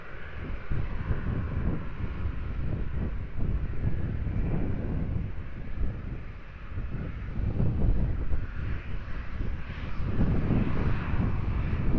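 A fixed-wing airliner approaches Lisbon Airport, its engine roar a steady, loud broadband rumble mixed with wind buffeting the microphone, swelling slightly toward the end with no voices.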